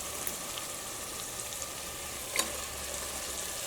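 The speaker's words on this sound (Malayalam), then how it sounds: "ഇനി നമ്മളിതിലേക്ക് ചിക്കൻ ചേർക്കാണ്." Chicken sizzles as it is added to hot curry gravy in a cooker, a steady frying hiss with a few sharp spatters and one louder crackle midway.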